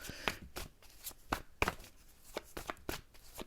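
Tarot cards being shuffled in quick riffling bursts, several crisp flutters spaced irregularly and close by.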